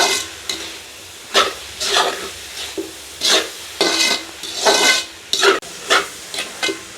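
A village kitchen dish is stirred as green chilli and spice powder are mixed in, with repeated scraping strokes of a spoon against the pan in uneven bursts over a faint background sizzle.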